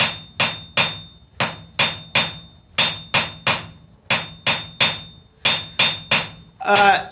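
A hammer strikes hot metal on an anvil during forging, bright, ringing blows grouped in quick bursts of two or three with brief pauses between.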